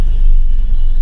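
Loud, steady low-end rumble fills the cabin of a moving police car crowded with eight people, a continuous road and engine drone with no voices.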